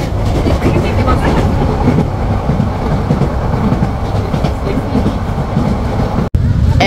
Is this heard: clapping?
no